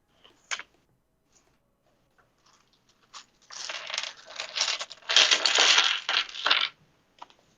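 Dice tumble out of a cloth dice bag during a tabletop role-playing session, a few light clicks followed by a dense rattling clatter of plastic dice, close and fairly loud, with no talk over it.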